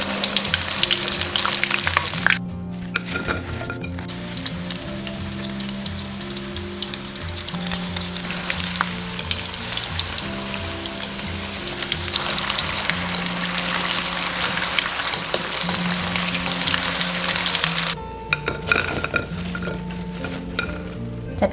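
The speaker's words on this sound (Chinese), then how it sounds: "然后开中火炸，一个个都包裹的好好。" Batter-coated pieces deep frying in oil over medium heat, a dense, continuous bubbling sizzle close by, with occasional clinks of utensils against the pan and short lulls where the frying dips before surging back.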